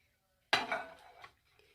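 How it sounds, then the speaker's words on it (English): Beaten eggs pour into a pan of gently heated melted butter for a Tex-Mex sausage omelet, landing with a sudden wet splash and soft sizzle that fades over about a second, with a faint clink near the end. "So I'm going to put in my beaten eggs"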